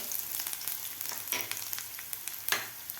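Ginger, asafoetida and turmeric fry in a pan, a soft continuous sizzle with light crackles and occasional stirring scrapes, close and fairly quiet.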